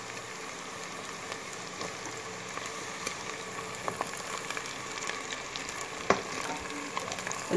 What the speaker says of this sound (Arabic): هحمر البصل، اصفر كده شوية.